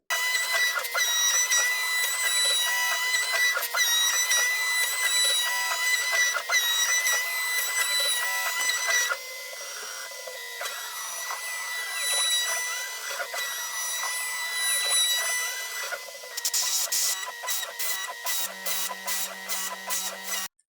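CNC machine milling out the jack cavity of a guitar body, a steady high whining cut close by with shifting pitch, then a final stretch of rapid stuttering pulses as the cutter moves in short steps.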